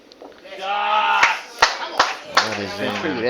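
Spectators at a men's singles bowls tournament clap in scattered, sharp bursts under a commentator's voice, with a few distinct claps standing out near the end.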